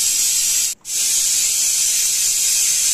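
Steam hisses loudly and steadily from a pressure cooker of chana dal, a bright, continuous spray with one brief break before it resumes.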